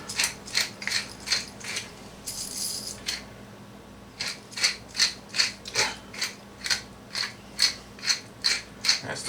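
A pepper grinder cranks quad pepper blend in a home kitchen, producing a close, loud, regular run of ratcheting crunches, with a brief pause partway through before the steady grinding rhythm resumes.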